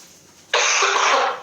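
A person coughs loudly once, a sudden harsh burst that holds for about a second, close and alone with no talk around it.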